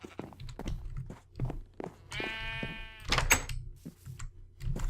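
Sheep bleat in a Minecraft-style video game, a clear wavering bleat rising over soft repeated footsteps and light thumps, close and moderately loud.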